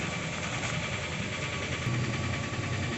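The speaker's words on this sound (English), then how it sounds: "So this is the stock muffler" A Suzuki Shogun motorcycle engine runs steadily through its stock muffler, a close, loud, even rumble with a constant throb and no break, while a bit of exhaust leaks from a small hole in the silencer.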